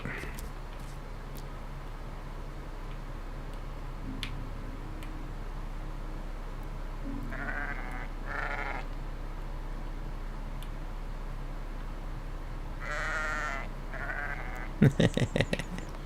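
Sheep in the video game Aloft bleat in a few short bursts, fairly quiet against a steady low hiss of game ambience, with a cluster of sharper ticking sounds near the end.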